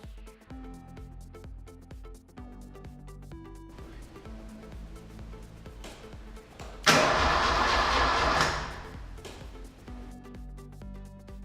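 Maserati Spyder engine being started after repairs, with clicks and a brief crank before the engine fires into a loud roar lasting a couple of seconds, then settling down to quieter sounds, no talking.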